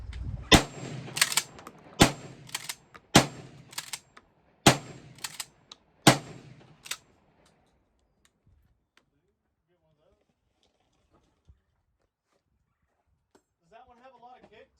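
A JC Higgins model 20 gun fires a string of sharp, loud shots outdoors, about seven reports in uneven rhythm, then long near-silence with a few faint clicks and a brief voice at the end.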